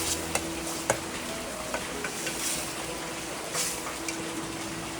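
A spiced tempering for a spicy crab curry sizzles steadily in a pan at home, a continuous soft hiss broken by a few faint ticks and clinks.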